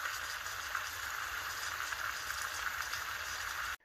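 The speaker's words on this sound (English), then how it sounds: "First thing you got to do is cook your bacon." Bacon sizzles in a pan, a steady dense crackle and hiss of frying grease heard close up with no talk, cutting off abruptly at the end.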